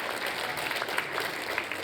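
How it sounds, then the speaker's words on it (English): A staff event audience at a mentalist's show claps for a stage assistant: dense, steady applause fills the whole short stretch at close range, with no voices rising above it. "Give Katie a big round of applause, the perfect assistant."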